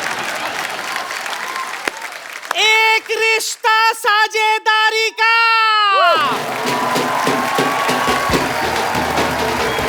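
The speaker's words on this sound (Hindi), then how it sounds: "एक रिश्ता साझेदारी का की पूरी टीम के लिए जोरदार तालियां।" Studio audience applause for the team of the TV show 'Ek Rishta Saajhedari Ka', a steady broadband clatter filling the whole stretch, partly covered midway by a loud announcer voice and a short musical flourish.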